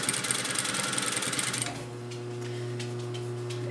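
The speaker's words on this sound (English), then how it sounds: "fold into the middle and fold again and cover your stitching line and stitch right along the fold" A sewing machine runs in a fast, even rattle for about a second and a half while stitching along the fold of a fabric grocery tote, then stops and leaves a low steady hum.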